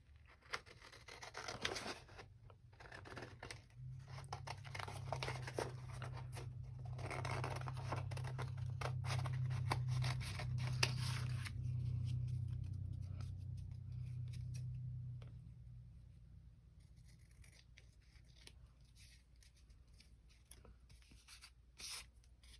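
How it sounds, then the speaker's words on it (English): Close, quiet snipping and rubbing as scissors cut along strips of paper card, repeated over several seconds above a soft low hum, then fading into lighter handling noises. "Now we're just going to take our scissors."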